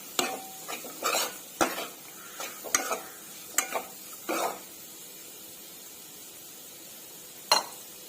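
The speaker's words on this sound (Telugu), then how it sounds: "ఇప్పుడు కొంచెం పసుపు, వేసుకొని ఇలా మొత్తం కలిసేటట్టు కలుపుకుందామండి." Beetroot frying in a pan with turmeric being stirred in, a utensil scraping and knocking against the pan in irregular bursts over a faint sizzle, then going mostly quiet before one last clink.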